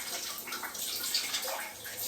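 Shower running in an Airbnb bathroom beside a sauna, a steady soft hiss of spraying water, faint and continuous with no voices.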